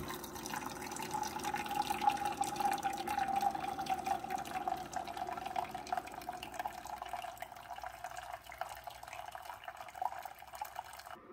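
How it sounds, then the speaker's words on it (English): Steady trickling and gurgling of water and vinegar flowing through a Keurig K-Classic coffee maker during descaling, a continuous low watery stream that gradually thins out toward the end. "it's going to brew that vinegar and water through the machine"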